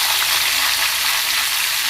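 Garlic, mustard seeds, split chickpeas, urad dal and curry leaves tempering in hot oil in a pan, a steady bright sizzle and crackle held at even loudness close by, with no talking.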